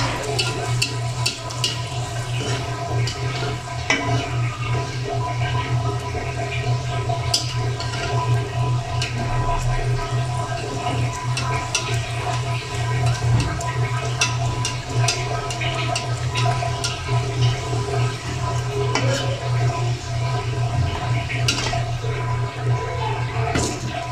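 A Mughlai paratha fries in oil, giving a steady, loud bubbling sizzle with soft crackles that carries on without pause for the whole stretch, close by.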